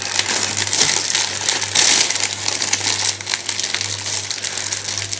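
A plastic bag holding sprues of tracked wheels from a 1:35 Zvezda Panther model kit crinkles and rustles loudly and continuously close up, with a steady low hum underneath.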